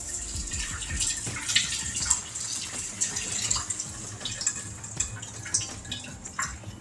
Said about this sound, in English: Rinse it in hot water